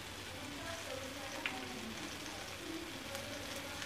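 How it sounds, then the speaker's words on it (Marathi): Cumin seeds crackle in a spoonful of hot oil for kaju masala bhaji, a soft, even sizzle with scattered tiny pops that holds steady for a few seconds, close by with no talking. "हे तेलामध्ये आपण सर्वप्रथम थोडेसे जिरं घालून घेऊया"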